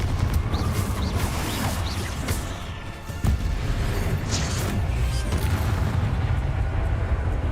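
Confringo, an explosive fire spell in the Hogwarts Legacy video game, going off amid dense, continuous booming and rumbling battle noise, with a sharp burst near the middle standing out from the roar.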